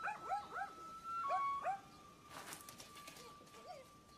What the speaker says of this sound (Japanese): 犬の。